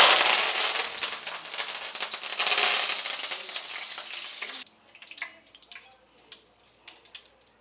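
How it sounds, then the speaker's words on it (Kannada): Curry leaves hit hot oil for avarekalu mixture, a loud crackling sizzle that fades after a few seconds into softer intermittent popping and stirring. "ಈಗ ನಾನು ಕರ್ಬಾನ್ ಸೊಪ್ಪು ಫ್ರೈ ಮಾಡ್ಕೊತೀನಿ"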